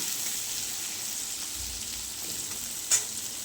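Bitter gourd fries in hot oil in a pan, a steady close sizzle with a faint scrape of stirring near the end, no talking.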